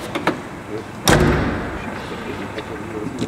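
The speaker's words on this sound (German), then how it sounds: "Kann ich mal zumachen, die Tür?" Heavy door of an armoured car swung shut, a single solid thud near the start followed by a short rumbling decay, with quiet ambient noise and faint clicks around it.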